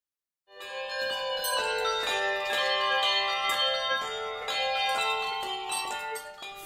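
Handbells rung four in hand, two bells per hand, in a band playing a continuous melodic peal of bright, overlapping ringing tones with long sustains, fairly loud and alone after a brief silence.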